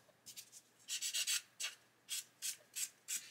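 Mr. Surfacer filler on the wing of a 1/24 Airfix Spitfire Mk.IXc model is sanded in short, quiet, close strokes, about a dozen rasping rubs in an uneven rhythm with no talk.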